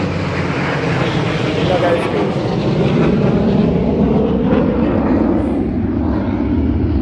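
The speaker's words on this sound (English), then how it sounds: "They got the EAA, the Air Adventure show going on. So it's going to be a lot of planes going by." Airplanes fly over during the EAA AirVenture air show in Oshkosh, Wisconsin, with a loud, close engine roar that fills the whole moment and washes steadily overhead.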